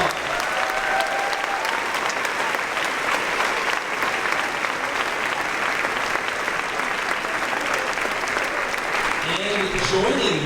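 A crowd at an eighth-grade promotion ceremony applauds loudly, dense sustained clapping that holds steady throughout, with faint voices mixed into the crowd near the end.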